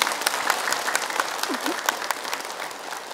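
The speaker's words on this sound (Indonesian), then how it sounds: "Tepuk tangan dong." Steady audience applause at an Indonesian religious talk show, a continuous wash of clapping with some individual claps standing out and a brief vocal sound in the middle.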